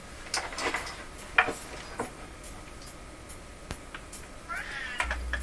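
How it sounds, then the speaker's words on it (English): A cat meows several times outdoors, faint and distant short calls scattered among light clicks and room noise. "Hear my cat calling outside."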